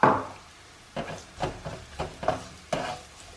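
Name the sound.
onions frying in a pan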